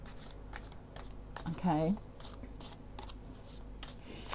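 A deck of tarot cards is shuffled close by, with soft papery riffles and a louder flurry of card noise midway, and a voice speaks briefly over it.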